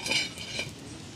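A metal cooking pot is set down on an outdoor cooking fire, producing a brief pair of close metallic clanks and scrapes over a faint background hiss.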